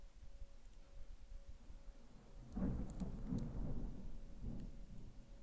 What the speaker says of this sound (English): I don't know if anyone can hear the thunder.